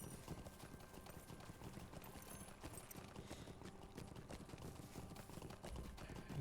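Horse hooves clip-clop steadily during a ride in the online game The Lord of the Rings Online, a continuous rhythmic patter at moderate level with a busy game soundscape behind.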